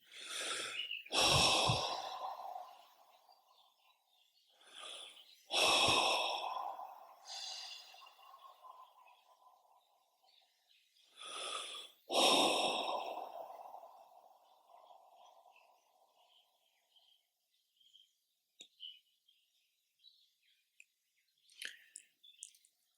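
Three deep breaths come one after another during a meditation, each a slow, close inhale followed by a long, audible sigh of relief, then faint small clicks and shuffles.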